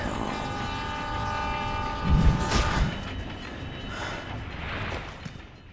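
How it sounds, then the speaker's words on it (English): A train in the Spider-Man: Shattered Dimensions video game rumbles with a steady, continuous roar and sustained horn-like tones. A louder burst of rumble swells midway before it settles back to a constant hum. "Looks like you have a train to catch, or will it catch you?"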